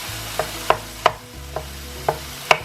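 Plum tomatoes broken up with a spoon while stirring in a pan of corned beef spaghetti, six sharp scraping knocks at irregular intervals over a low sizzle.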